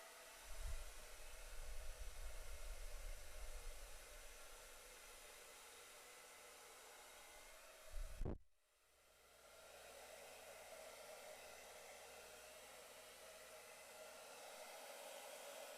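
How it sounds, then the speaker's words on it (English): A hair dryer set to cool air on a low fan blows steadily during acrylic pour painting, a broad continuous whoosh with a brief bump and dip near the middle, then a slightly quieter steady rush. "The hair dryer."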